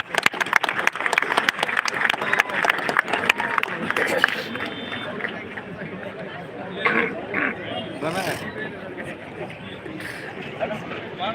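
Loud, sustained applause from a crowd at a Republic Day event at Beed police headquarters, a dense wash of clapping that thins out after a few seconds into crowd murmur.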